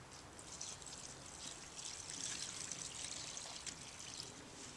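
Soda ash solution is poured into a Procion MX dye solution, a faint, steady trickling stream of liquid heard alone at low volume.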